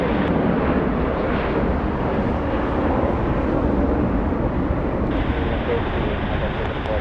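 A fully loaded United Airlines Boeing 757 bound for Chicago takes off at LAX with a broad, steady jet roar, loud and continuous and heavy in rumble, heard outdoors.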